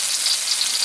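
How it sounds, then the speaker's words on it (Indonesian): Bird's eye chilies and garlic sizzle steadily in a hot wok still greasy from frying eggs, a close, continuous bright crackle with no talk. "Terus langsung kita masukin cabai rawitnya sama bawang putih."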